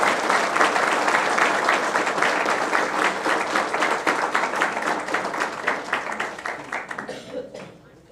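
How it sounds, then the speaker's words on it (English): A school board meeting audience gives student writers a round of applause, loud, dense clapping that runs strong for several seconds and then thins and fades out near the end. "Let's give these students and writers a round of applause"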